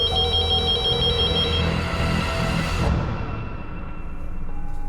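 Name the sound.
telephone ringing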